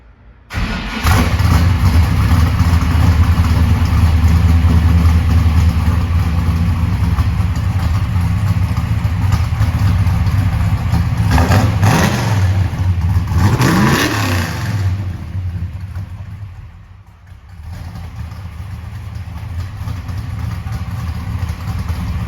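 A 650 hp restomod 1969 Plymouth Road Runner V8 fires up and settles into a loud, rumbling idle close by, with two sharp throttle blips rising and falling midway before the idle resumes.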